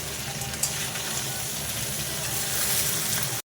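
Ridge gourd and potatoes fry in oil in a pan, a loud steady sizzle with a brief clatter early on, continuous and close until it stops abruptly at the end.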